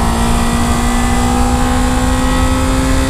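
Steady, loud engine drone from a Suzuki GS500E motorcycle while riding, a constant hum with a sustained tone and no change in pitch, with no talking.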